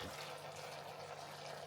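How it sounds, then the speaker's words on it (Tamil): Hot water poured into a pot of beetroot curry on the stove, a steady continuous rushing splash that stays even throughout, close by. "இன்னும் ஒருக்கா நல்ல வடிவா தூள் எல்லாத்தையும் சேர்த்து பிரட்டி போட்டு கொஞ்சம் சுடுதண்ணி விடுகிறேன்"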